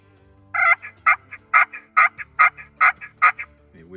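A friction turkey call clucks in a steady series of about ten sharp, loud notes, evenly spaced and close up, with no talking.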